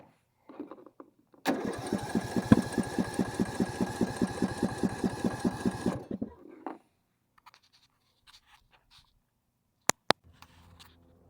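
A John Deere 180 lawn tractor engine cranks over and over in a fast, steady, loud rhythm for about four seconds without catching, then stops. A few faint clicks and taps follow in near silence.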